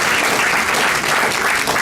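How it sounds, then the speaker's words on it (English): An audience at a city council candidate debate claps in a loud, close, continuous burst of applause that stays steady for its short length, with no voices over it. "They deserve a round of applause,"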